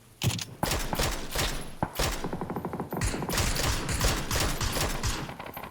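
Video-game gunfire in PUBG, rapid automatic bursts and rattling volleys of shots repeating in quick rhythmic strings, fairly loud and continuous with no talk over it.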